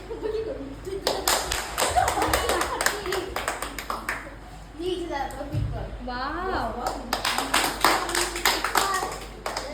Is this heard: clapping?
yes